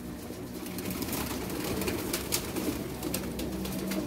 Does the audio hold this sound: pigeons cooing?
yes